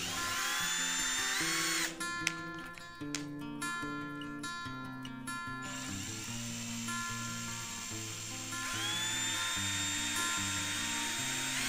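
A Total TDLI12325 12V cordless drill spins up close and loud, its motor whine rising through changing speeds and settling into a sustained buzzing drone with clattering chuck noise early on; no talking over it.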